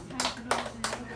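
Three or four sharp, evenly spaced hand claps in a therapy room, close and distinct, with a low steady hum underneath.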